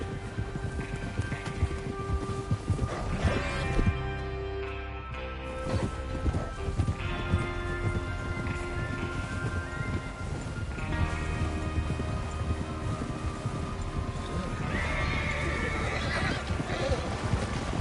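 Horses in the video game Red Dead Redemption 2 whinny and their hooves clatter in a steady galloping rhythm, mixed with a busy outdoor soundscape and faint voices in the background.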